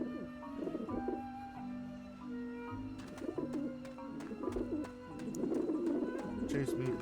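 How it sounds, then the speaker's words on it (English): Pigeons coo in a Grim Fandango Remastered game scene, soft repeated rolling coos layered over game music, with a person talking faintly underneath. "Chase me, pigeons."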